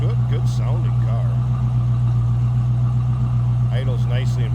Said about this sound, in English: Idles nicely and very good throttle response.